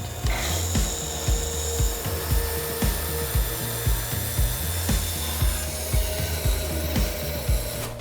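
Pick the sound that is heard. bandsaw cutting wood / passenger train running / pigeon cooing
bandsaw cutting wood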